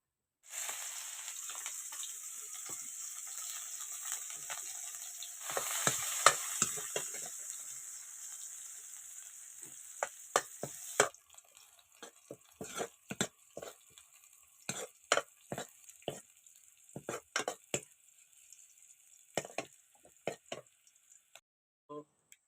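Onions fry in hot oil in a pan on a home stove, first a steady loud sizzle, then a busier stretch as they are stirred, giving way to quieter crackling and scattered spoon scrapes and taps near the end.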